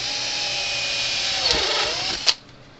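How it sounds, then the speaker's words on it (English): A drill with a stepper bit whirs steadily at high speed, bogs slightly as it bites, then cuts off with a sharp click near the end. "Drill 2 holes."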